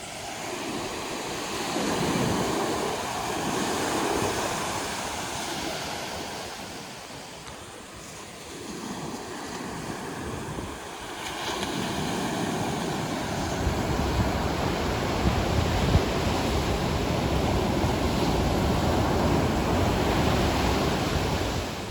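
Ocean surf rolls in steadily at Huntington Beach State Park in Murrells Inlet, South Carolina, a continuous broadband wash of breaking waves with gentle surges and some wind rumble, no voices.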